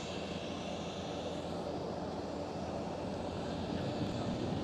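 A Ryanair airplane at Amsterdam Schiphol airport produces a faint, distant, steady engine rumble, even in level throughout, with no voices.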